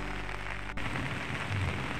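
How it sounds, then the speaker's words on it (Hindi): Heavy rain falls steadily on a deserted mountain road shrouded in fog, a dense continuous wash close by with a brief dip partway through and no voices. "बारिश हो रही है"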